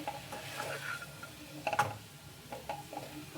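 Broccoli being stirred with pepper powder in a pan for a dry fry, with soft scraping and clinking strokes and a cluster of sharper metallic taps near the middle, close and fairly quiet, no talking.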